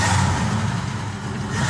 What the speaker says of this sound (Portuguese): Não podemos passar por essa reportagem sem ouvir um motor dessas máquinas históricas